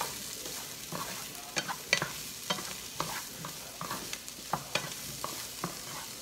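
Cauliflower and carrots stir-fried in a pan for fried rice make a steady close sizzle, with regular scraping stirs rising every half second or so, and no voices.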